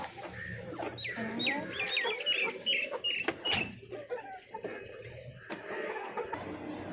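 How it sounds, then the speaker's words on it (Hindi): Desi hens in a rooftop cage cluck and call in short bursts, close and moderately loud, with rising squawks early on and scattered quieter clucks and light background noise afterward. "तो ये इधर मुर्गियाँ रखी हुई हैं, देसी मुर्गियाँ जो होती हैं रखी हुई हैं।"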